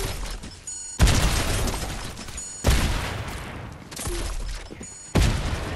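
Sticky grenade launcher explosions in Fortnite: four loud, heavy booms at roughly one-to-two-second intervals, each fading into a rumbling tail, with faint mechanical clicks in between.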